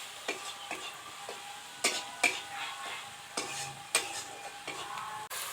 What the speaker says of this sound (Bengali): এগুলোকে খুব ভালো করে কষিয়ে নেব